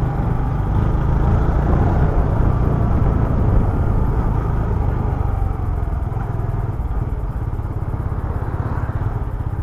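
A Yamaha PG-1 115 cc motorcycle is ridden along, its engine droning steadily and close, mixed with rushing wind noise and no talking.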